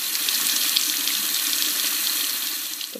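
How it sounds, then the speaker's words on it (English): Cold tap water runs steadily over a peach in a kitchen sink, a close, continuous hiss and splatter with no voices. "you're going to pull it out and then go run it under cold water"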